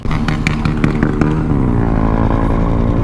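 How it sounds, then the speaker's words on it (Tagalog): A motorcycle engine pops and crackles in a rapid burst of sharp bangs near an expressway entrance, then settles into a loud steady engine drone close by. "May naputok-putok na motor dun"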